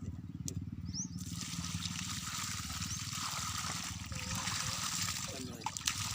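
Water pours steadily in a continuous trickling splash during a temple puja, close and moderately loud, with people talking over it.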